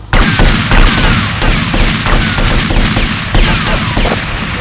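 Rapid bursts of gunfire crackle nonstop during a shootout with police in Grand Theft Auto: Vice City, loud and dense with overlapping volleys and no talking.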